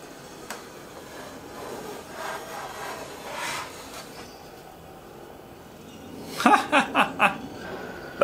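A Melbourne Tool Company low-angle jack plane takes a pass off a wood edge, heard as a quick run of short, close rasping strokes after a quiet, low rustling lead-in.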